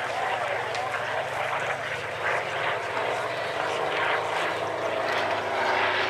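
A Spitfire fighter's propeller engine drones steadily overhead at an air show, heard from a distance beneath a commentator's voice.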